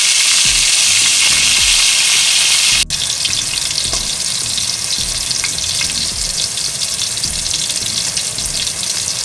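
Pesto salmon pan frying as the fillet is cooked on its other side, a loud, dense, continuous sizzle close by, with a sharp break where the fish is turned.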